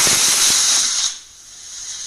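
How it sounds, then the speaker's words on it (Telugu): A home pressure cooker used for baby food vents steam after its third whistle. A loud, close, broad hiss rushes for about a second, then cuts off into faint background noise. "3 విజిల్స్ కంప్లీట్ అయిపోయినాయండి."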